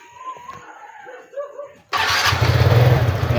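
A TVS Ntorq scooter engine, newly repaired after a crankshaft machine-shop job, abruptly starts and runs loudly and steadily with a rough, throbbing idle, after a quieter stretch with faint talking.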